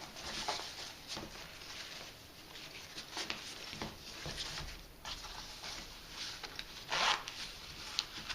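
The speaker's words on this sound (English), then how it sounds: "So there's a zipper within the zipper here." A zipper on the carrying bag of a rolling stainless C stand with boom is worked in short rasping pulls and rubs, quiet and close, with bag fabric rustling between strokes.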